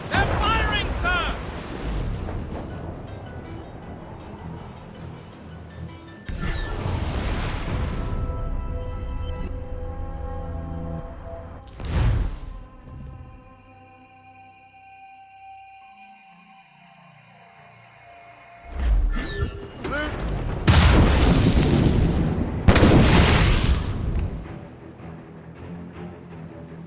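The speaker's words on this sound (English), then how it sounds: "They're cannon!" Naval cannon fire from a sailing warship in Assassin's Creed Rogue, heavy booming blasts arriving in bursts amid crew shouting and a game music score, loudest volleys clustering near the end.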